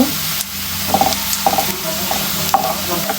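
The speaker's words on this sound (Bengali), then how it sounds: "এখন কিছু জিরা দিয়ে দিব।" Chopped onions and cumin seeds fry in hot oil in a pan as a fish curry with tomato, potato and eggplant is prepared, giving a steady close sizzle with occasional light scrapes and clicks of stirring.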